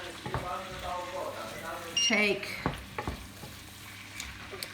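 Orzo prawn risotto sizzling in a pan while being stirred, with close spoon scrapes and a crackling sizzle over a few seconds; a faint voice is heard in the background.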